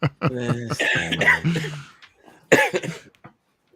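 Several harsh coughs from a man with a cold, close to the mic, a burst at the start and another after a brief pause, with a bit of throaty voice between them.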